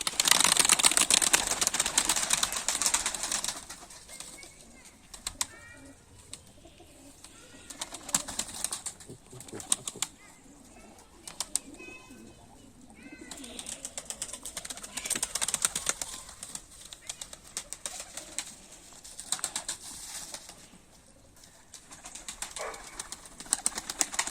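Pigeons cooing and shuffling close by, with occasional wing flaps and scratchy clicks over a steady hiss.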